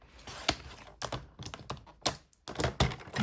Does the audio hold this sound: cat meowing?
no